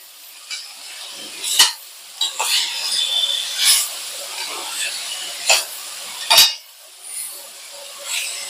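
Cauliflower curry cooking down in oil, stirred with sharp intermittent scrapes and clatters of a spoon against the pan over a soft steady sizzle.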